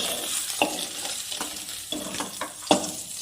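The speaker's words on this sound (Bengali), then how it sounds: "এইভাবে আমি বাকি মাছগুলো ভেজে নিব।" Tengra fish frying in a pan, a continuous crackling sizzle punctuated by several sharp spatula scrapes and clacks against the pan at irregular intervals, close and fairly loud, with no talking.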